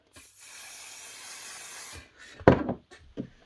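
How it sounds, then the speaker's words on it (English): A spray can hisses steadily for about two seconds onto an embroidered Advent stocking fabric in a small embroidery hoop, followed by a few soft rustling handling knocks. "give it a quick spray"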